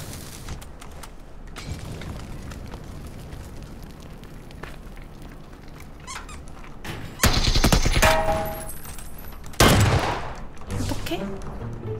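Bursts of gunfire erupt in a shooting video game, loud rapid volleys around the middle and later stretches over a busier background, with voices talking at points.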